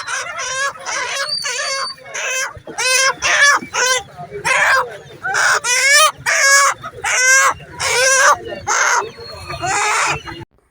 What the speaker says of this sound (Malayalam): ഇത് നല്ല നാടൻ കോഴിയാണ് കേട്ടോ